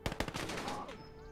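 Gunfire in the Gates of Hell war game, a short, faint, rapid machine-gun burst with a few distinct shots at first that trail off into a hazy rattle.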